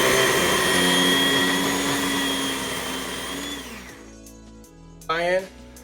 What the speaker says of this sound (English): So let's go ahead and give it a quick blend.